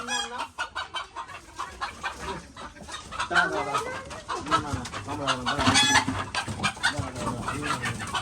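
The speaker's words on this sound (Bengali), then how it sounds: "মুরগিগুলো চিচিয়ে যাচ্ছে" Chickens cluck loudly and continuously close by, with overlapping squawks, calls and an occasional crow-like cry in a busy farmyard chorus.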